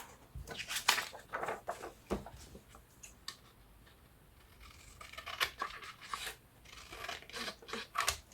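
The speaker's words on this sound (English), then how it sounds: "I'll be straightening it all out anyway with my scissors in a minute" Scissors snip and rasp through marbled paper trimmed at the ends while making pocket paper bags, a run of close, crisp cuts in irregular bursts, with a quieter stretch in the middle before the snipping picks up again.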